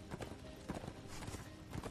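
Steady clip-clop of horse hooves in the video game Darksiders 2, a regular trotting rhythm at moderate volume over a faint background wash, with no talking.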